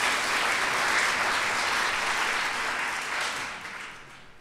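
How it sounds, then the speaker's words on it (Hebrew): Audience at a children's choir concert applauds, a dense, full wash of clapping that stays loud and even before tapering off slightly toward the end. "אפשר למחוא כפיים"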